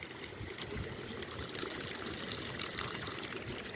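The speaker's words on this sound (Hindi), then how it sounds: "ये देखो यहाँ हॉट स्प्रिंग का पानी आ रहा है।" Hot spring water flows steadily out of the ground near the India-China border, a constant soft pouring and trickling wash heard close by with no voices.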